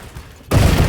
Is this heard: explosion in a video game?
yes